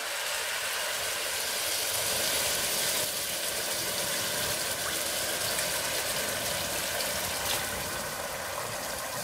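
Water pours steadily into a pot of rice for Andhra-style chicken biryani, a continuous dense gushing wash heard up close for several seconds with no talk.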